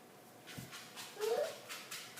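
A dog lets out a short, faint whimper, one thin whine in a quiet room with a few soft rustles around it.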